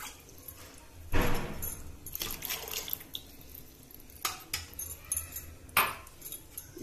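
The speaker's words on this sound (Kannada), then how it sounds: "ಸ್ವಲ್ಪ ಬಟ್ಲಗ್ ನೀರು ಹಾಕಿ ತೊಳ್ಕೊಂಡು ಕೂಡ ಹಾಕೊಳ್ತೀನಿ" Water poured into a bowl to rinse out leftover curd for buttermilk sambar, heard as splashes and swishing with metallic clinks of the vessel, several bursts spread across the clip, no talk.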